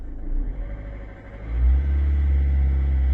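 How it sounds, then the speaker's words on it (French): Citroën C3 1.4 HDi diesel engine, troubled by a fuel pressure signal fault, idles with a low rumble and then swells into a deep revving drone that holds steady. "Donc on va accélérer un petit peu pour voir l'évolution"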